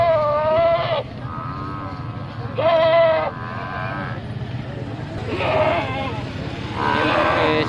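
Goats bleating at a busy Lahore livestock market, several loud wavering bleats repeating near the microphone over constant crowd murmur and people talking.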